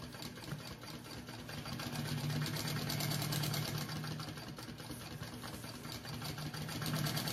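Sewing machine basting a fabric bag closed, a quiet, steady whirring hum with a faint rapid stitching rhythm running continuously.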